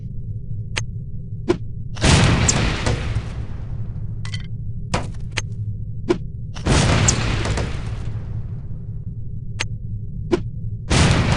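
Two loud explosive booms from lipstick explosives detonating on impact in the spy shooter No One Lives Forever, each a sudden broadband blast decaying over about a second, separated by sharp clicks and pops over a steady low hum.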